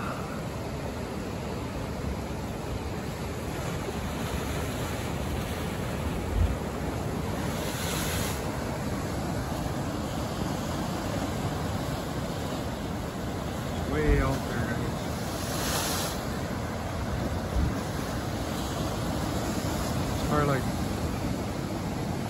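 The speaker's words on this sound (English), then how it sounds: "These waves are far out there." Pacific Ocean waves break far out beyond a beach in a continuous, steady roar mixed with wind buffeting the microphone, with a voice speaking briefly over the surf.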